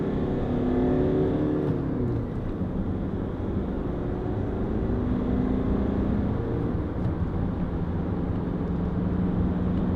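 Honda CR-V 2.2 i-DTEC diesel station wagon engine heard from inside the cabin while driving, a steady low drone with gentle rises in pitch as it revs, continuous and moderately loud with no talking.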